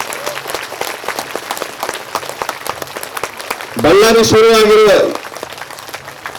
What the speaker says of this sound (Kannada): ಇಬ್ಬರಿಗೆ ಜೋರಾಗಿ ಚಪ್ಪಾಳೆ ಮಾಡೋಣ